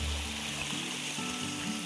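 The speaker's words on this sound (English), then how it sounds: "The way we're walking at is a waterfall." Waterfall by a walking path at a green tea plantation in Boseong, a steady broadband rush of falling water filling the scene, fairly faint and continuous with no voices over it.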